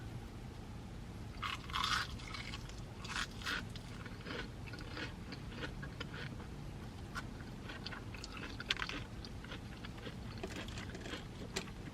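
A crunchy onion ring dipped in boom boom sauce is bitten and chewed up close, with repeated crisp crunches and scraping bites over several seconds, no talking.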